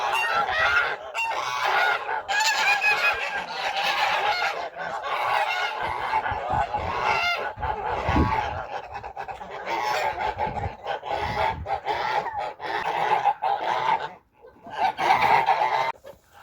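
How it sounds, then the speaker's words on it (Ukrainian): A flock of geese honk loudly and continuously, overlapping calls close by with brief pauses near the end. "Тут гусак і три гуски ж приїхали."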